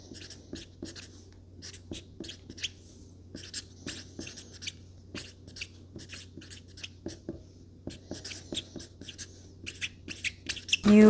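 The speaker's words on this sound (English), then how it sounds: "Let's write our thank you notes." Thank-you notes are written by hand with a pen on paper at a packing desk. Quiet, close scratching strokes come in short irregular bursts with brief pauses, and a louder bump sounds at the very end.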